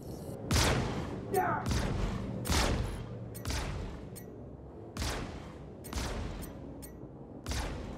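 Laser scattergun pellets from an Anvil F7C Hornet Wildfire slam into an enemy ship in Star Citizen. Loud, booming bursts repeat roughly every second, with some talk in the background.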